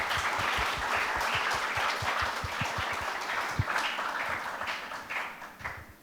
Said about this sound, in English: Can we have a round of applause for sir?